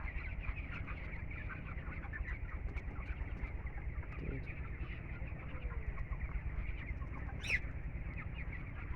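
Broiler chickens about 18 days old cluck and call in a poultry shed, a soft continuous murmur of many birds with a few sharper calls standing out.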